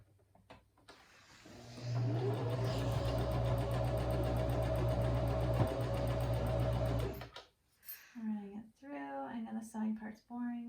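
A sewing machine runs a seam on an upcycled cashmere sweater made into child's pants, a steady loud whirring motor lasting about five seconds, followed by someone speaking.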